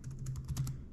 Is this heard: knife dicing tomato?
no